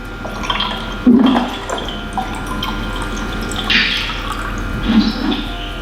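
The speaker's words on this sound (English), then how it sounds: "I'm going to add this other clear liquid to it" Clear liquid is poured into a container during a school colour-changing science demonstration, giving a soft trickle with a few brief splashes and drips, up close.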